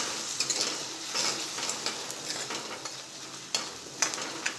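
Chopped tomato tipped onto onions sautéing in a pan for Punjabi rajma masala, then stirred, giving a steady close sizzle with scraping spoon strokes and a few sharp clinks against the pan.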